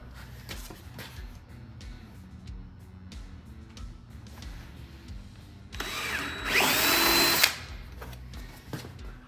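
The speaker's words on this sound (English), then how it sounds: "I'm going to drill a hole in the spot I just marked" A power drill whirs up loudly for about two seconds, rising in pitch as it bites into a Honda Pioneer 1000 door panel, amid quieter handling noises and clicks.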